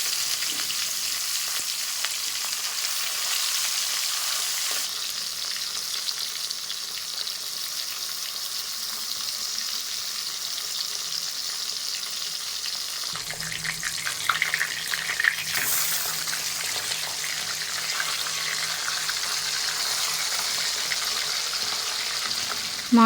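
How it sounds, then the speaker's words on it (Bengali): Fish coated in turmeric fry in hot mustard oil in a wok, a steady loud sizzle throughout with brief stirring and splashing sounds, no talking. "তেল গরম করে নিয়েছি, এবার মাছগুলো দিয়ে লাল লাল করে ভেজে নেব।"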